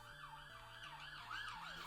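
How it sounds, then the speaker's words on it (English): A police car siren passes outside, its rising and falling wail looping steadily, faint and muffled as if heard through walls, with no talking. "God damn it, police car."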